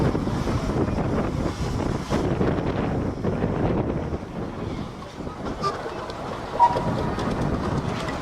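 A steam traction engine runs steadily at a steam rally, a broad, continuous rumble and hiss with wind buffeting the microphone and no clear beat.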